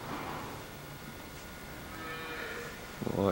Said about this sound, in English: Just let the cows in, get ready for the milking.